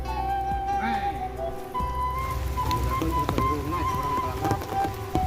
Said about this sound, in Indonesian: Hujan sob, aduh, neduh dulu.